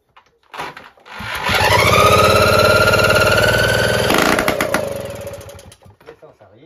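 A small fuel engine sputters and catches once fuel reaches the carburettor jet, settling into a loud, steady buzzing run for a few seconds before cutting back and dying away.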